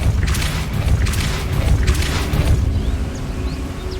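Depulso spell cast in the Hogwarts Legacy video game: a loud, rumbling magical blast with whooshing surges, sustained for a few seconds before fading into lighter swishes.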